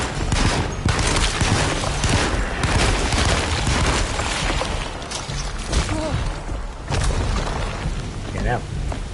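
Rapid bursts of gunfire in the survival horror game Alone in the Dark Remake, dense and loud across the scene, mixed with heavy booms and a noisy, rain-like background.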